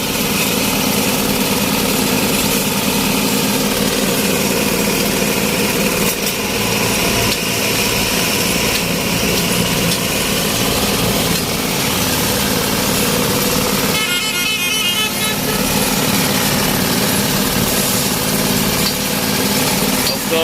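Diesel engine of a vibrating compactor packing railway ballast stone during track maintenance on a rail line near Hanoi, running loud and steady throughout with a constant rumbling drone and brief rattling texture midway.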